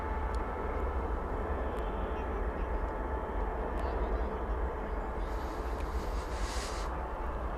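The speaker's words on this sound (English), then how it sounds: "That's flight 1832, 737-800 coming in from Denver, Colorado." A Boeing 737-800 jet landing at DFW airport, arriving from Denver, heard as a steady broad engine roar that holds at even loudness throughout, with a faint hiss rising toward the end.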